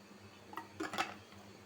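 A cooking pot for a Bangladeshi curry of beef shank and chickpea lentils is set down on a stove, a short cluster of soft metallic knocks and scrapes, close and fairly quiet, with no talk.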